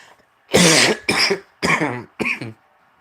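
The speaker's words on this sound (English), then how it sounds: "I've had a really bad cough and and a sore throat" Four harsh, chesty coughs from a person with bronchitis and a sore throat, close and loud, coming in quick bursts with short pauses between them.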